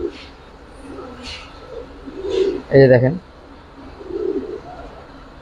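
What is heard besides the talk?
pigeons cooing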